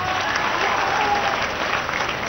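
Dense crowd applause at an Amit Shah BJP rally in Begusarai, Bihar, a steady, loud wash of clapping that fills the whole moment without letting up.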